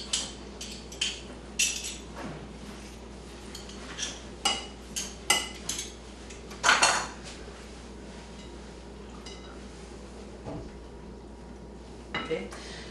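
A knife minces garlic on a cutting board in a home kitchen, giving a series of irregular, close, crisp taps in bursts with pauses, while someone speaks quietly.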